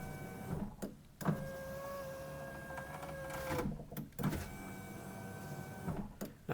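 Electric power window motor in a GMC Yukon/Chevy Tahoe door with a newly fitted Dorman regulator, whirring steadily in a few runs up and down, with clunks as the glass stops at each end, close and fairly quiet.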